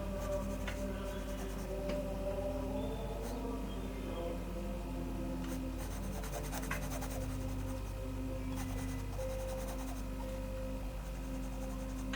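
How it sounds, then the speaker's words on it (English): A graphite pencil shades over paper in a drawing, with close, steady scratchy strokes that come in repeated passes over a low background hum. "So why I'm going over with the pencil here"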